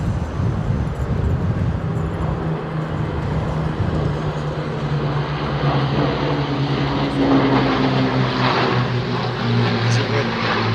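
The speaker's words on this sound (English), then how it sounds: "Spitfire on the right, Hurricane on the left." A Spitfire and a Hurricane propeller aircraft fly past at an air display, producing a steady, loud engine drone with a sustained low hum that holds for the whole stretch.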